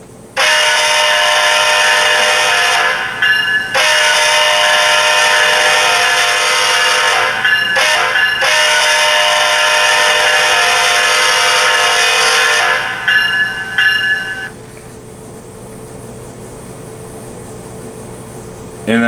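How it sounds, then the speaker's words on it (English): An HO scale BNSF model locomotive's sound-equipped horn blows loud and close in long sustained blasts with brief gaps, then cuts off, leaving a quieter hum before a short blip at the end. "So here's the horn."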